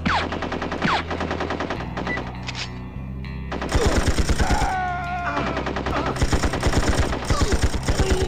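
Rapid automatic gunfire rattles through the video game 007 Tomorrow Never Dies, with loud repeated bursts of shots over game music and effects, the heaviest volleys in the second half.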